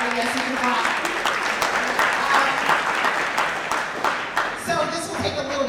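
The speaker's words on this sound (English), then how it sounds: "yes, you can clap" A school audience claps for a state representative, a lively, continuous round of applause with cheering voices mixed in, easing off toward the end as talk resumes.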